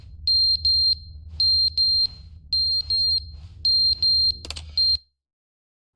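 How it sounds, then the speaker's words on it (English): Electronic smoke alarm in the video game The Stanley Parable: Ultra Deluxe, beeping in repeated pairs of sharp high tones over a low steady hum, loud and close, ending abruptly. "Smoke alarm's going off."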